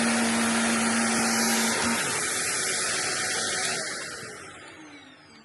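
A Shark Lift-Away vacuum cleaner runs with its floor rollers turning, giving a loud, steady, close-up whooshing roar that fades slightly toward the end.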